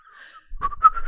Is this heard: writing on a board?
no